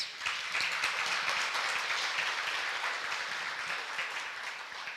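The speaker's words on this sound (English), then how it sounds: "I think you deserve to give yourself a round of applause." Graduates at a skin spa graduation ceremony give themselves a sustained round of applause, a dense, even wash of many hands clapping at steady volume for the whole stretch.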